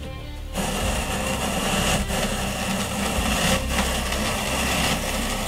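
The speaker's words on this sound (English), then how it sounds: "she's going to turn and it's going to peel the apple" A hand-cranked apple peeler machine turns an apple on its prongs, peeling and coring it into slices, giving a steady close whirring, scraping rumble that starts after a brief quiet moment and runs evenly throughout.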